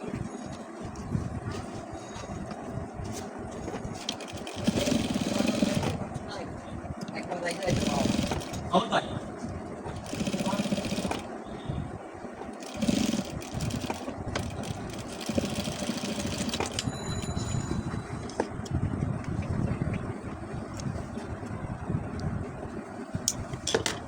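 A tailor's sewing machine runs in bursts while stitching a kabuli pocket flap, its motor whirring in several stretches of a few seconds each with pauses between, and a person talks over it throughout.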